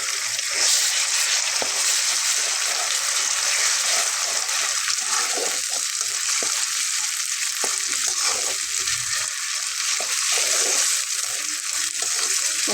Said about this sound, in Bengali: এখন আমি এখানে বাটা মশলাটা দিয়ে নিচ্ছি। আবারও বলে দিচ্ছি, এখানে রয়েছে আদা, রসুন এবং জিরা।